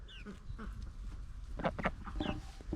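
A chicken clucks nearby in short, uneven bursts with a few sharper squawks, close and moderately loud over faint background noise.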